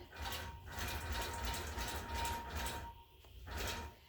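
A longarm quilting machine runs steadily while basting a quilt along its edge, its continuous mechanical hum and rattle dipping briefly near the end before picking up again.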